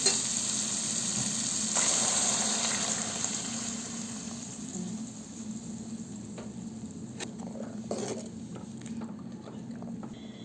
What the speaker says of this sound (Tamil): மசாலா அரைச்சி வச்சுருக்குறோம் அது எடுத்து ஊற்றிக்கலாம்